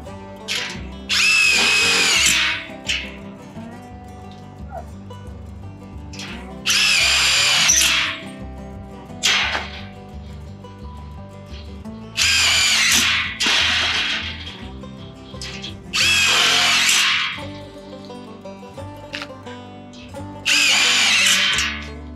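A power drill unscrews screws from a door during teardown of a rain shelter at an orchard site, whining in about five loud bursts of a second or two each, spaced by quieter pauses with light handling noise.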